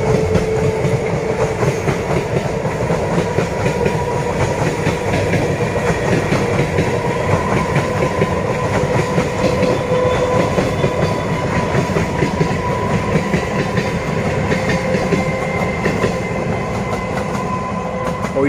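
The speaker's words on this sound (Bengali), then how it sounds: "ট্রেন যাচ্ছে আবার।" A train passes nearby for about eighteen seconds, seen on an early-morning walk: a loud, steady rumble with clattering wheels over the rails, without talking.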